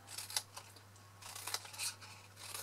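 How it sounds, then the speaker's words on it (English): Scissors snip little wedges from paper or card while making a pen box, a series of short crisp cuts in uneven rhythm, close and clear against a steady low hum. "So cutting those little wedges out."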